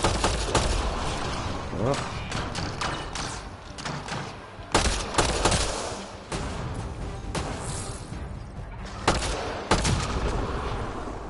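Dense gunfire from the video game Mass Effect Andromeda rattles almost continuously, with repeated sharp shots and impacts and someone speaking briefly under the din.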